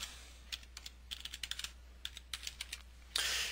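Quick keystrokes on a computer keyboard, typed in short irregular bursts with small pauses, close and fairly quiet, ending in a slightly longer rustling clatter.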